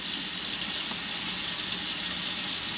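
Cold running water from a tap while hands are dipped and wet before shaping hot water cornbread dough, a steady, hissing flow that stays even and fairly close throughout.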